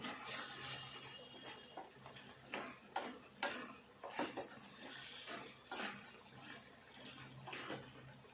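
Eggplant being stirred into a Telangana-style curry, a series of soft, irregular scraping and clicking strokes of a spoon against the pot, fairly quiet and close, with no talking.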